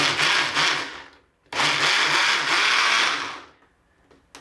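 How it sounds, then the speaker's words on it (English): A blender mixes crested gecko food powder with water in two short whirring bursts separated by a brief pause, close and fairly loud, ending in quiet. "put it on your blender."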